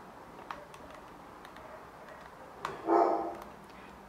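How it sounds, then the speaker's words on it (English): A dog gives one short, sharp bark indoors at moderate distance, following a few faint ticking sounds in a quiet room. "Pardon my dog. She's a little crazy and she may bark a few times."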